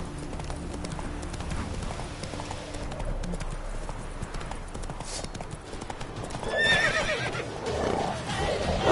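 Steady rhythmic clip-clop of horse hooves in the video game The Witcher 3: Wild Hunt, close and continuous, with a whinny rising near the end over a faint ambient backdrop.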